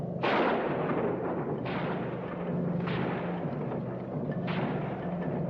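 Gunfire from soldiers in a 1960 ski troop war film, several heavy booming bursts at irregular intervals over a constant low rumble, loud and sustained with no talk.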